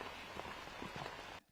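Steady rain patters across a disc golf course during a tournament round, a soft even hiss of drops on surfaces that cuts off abruptly near the end.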